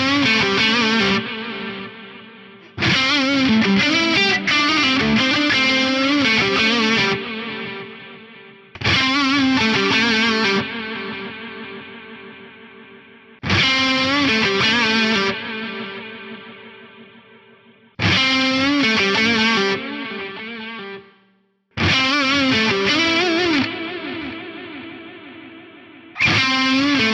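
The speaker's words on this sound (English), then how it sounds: "I'm boosting the Brit 800 2203 high with that integral pre." Electric guitar through an Axe-Fx III Brit 800 2203 amp model boosted by a TC integrated preamp, with a multitap delay: heavily distorted chords struck in bursts, each ringing into repeating delay taps that fade between hits.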